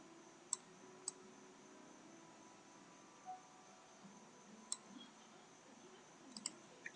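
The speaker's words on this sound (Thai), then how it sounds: "คลิกเมาส์ค้างไว้แล้วก็ลาก" A computer mouse clicks while someone draws shapes in Microsoft Paint, with a few faint, sharp clicks spaced irregularly over a quiet background and a quick cluster near the end.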